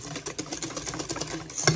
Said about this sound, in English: I just use a whisk.